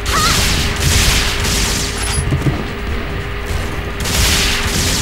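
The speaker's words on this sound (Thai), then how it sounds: "ยิงอัดหน้ามันเลยครับ" Gunfire from the Phantasy Star Online 2 video game, a dense burst of loud shots and booms that continues steadily across the whole span, with a sustained hum running beneath it.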